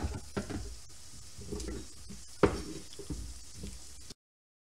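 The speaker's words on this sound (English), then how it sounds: "The sizzle." Vegetables sizzle and crackle steadily in a hot pan, with occasional stirring knocks and scrapes, fairly quiet and continuous before cutting off.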